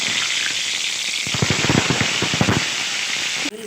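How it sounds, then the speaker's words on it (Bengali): Sliced eggplant dropped into hot oil in a kadai, a steady hiss that breaks into dense crackling and spitting sizzle, close and fairly loud, then cuts off abruptly near the end. "প্রথমেই বেগুনগুলো ভেজে নেব।"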